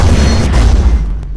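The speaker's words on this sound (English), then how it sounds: "I hear Cannon." Cannon in a video game firing once, a loud deep boom at the start that rumbles and fades over about a second, with no talking.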